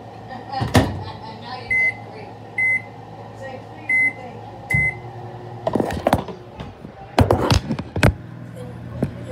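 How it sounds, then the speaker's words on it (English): A microwave oven hums steadily for a one-minute cook, its low drone broken by a run of short electronic beeps and a few sharp clunks and taps nearby. "You're gonna want to put this one in the microwave for 1 minute."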